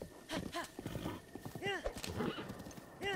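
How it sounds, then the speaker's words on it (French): Horse in Zelda Breath of the Wild, clip-clopping hooves with a couple of whinnies over game ambience, moderately quiet, with a voice in French nearby. "Je pense que j'aurais du mal à trouver mieux en cheval."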